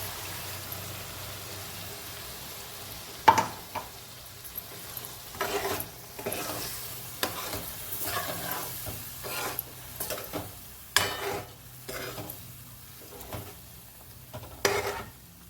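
Ground masala being added to drumstick curry frying in a pan and stirred in: soft sizzling under repeated scraping strokes of a spoon, close and moderately loud, with no talk.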